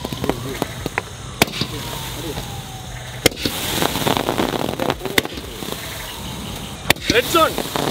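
Diwali fireworks, including sky shots, burst in sharp, loud cracks at irregular intervals, with crackling and whistling between them and voices talking in the background.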